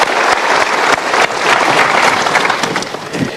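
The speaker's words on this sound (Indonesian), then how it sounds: "Kita berikan tepuk tangan" Lively applause from a studio audience on an Indonesian motivational TV show, loud and close with individual claps standing out, dipping briefly then continuing.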